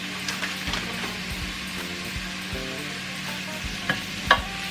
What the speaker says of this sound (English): so the onions and the garlic will saute a little bit in the coconut oil